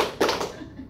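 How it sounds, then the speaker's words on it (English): Hands clapping three times in a classroom clapping game, a quick close burst of sharp claps following a short pause. "When I say Boston, clap three."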